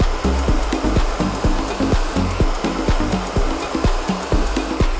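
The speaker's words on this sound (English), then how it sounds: "So as you can see, I've worked the blow dry." Hair dryer blowing steadily on hair sectioned and worked with a large round brush, a loud continuous whir with a faint regular pulsing as the brush passes, close by and alone.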